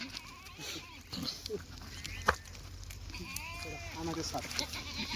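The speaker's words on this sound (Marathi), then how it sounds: "जवळ आलेल्या हो जवळ आलेल्या शेळ्या." Goats bleating at a livestock market, several wavering cries near and a little farther off, with people talking throughout amid the crowd's background noise.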